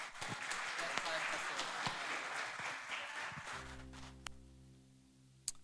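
A church congregation at a teaching service applauds in a dense, steady wash of clapping, which gives way to a sustained keyboard chord with a couple of sharp taps near the end.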